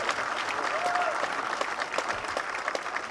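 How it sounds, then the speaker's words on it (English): An audience at a national award event applauds in a dense, continuous wash of clapping at moderate distance, with a brief whistle and faint voices in the crowd. "I'd like to hear a lot more applause for the effort."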